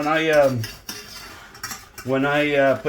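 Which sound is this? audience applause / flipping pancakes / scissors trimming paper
flipping pancakes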